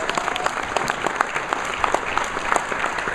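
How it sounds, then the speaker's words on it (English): A crowd at a sponsored community event applauds steadily, dense continuous clapping from many hands with no voices over it. "So let's give U.S. Bank a round of applause."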